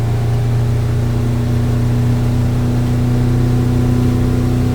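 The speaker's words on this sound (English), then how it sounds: "give it a little gas, trim the motors up" Boat motors drone loud and steady as the throttle is eased on, a continuous mid-pitched engine tone swelling slightly near the end with no talk.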